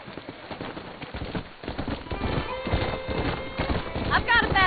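A horse gallops in Red Dead Redemption, with rapid hoofbeats building close up and a whinny near the end, while a character's voice talks over the start.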